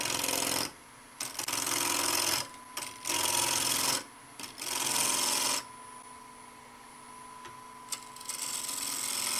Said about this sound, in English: You can use a small bowl gouge, or you could use a spindle gouge if you like.